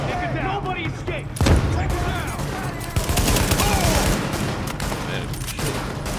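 Gunfire from The Division video game, with sustained bursts of shots and a heavy blast near the start, continuing dense and loud throughout while someone talks over the action.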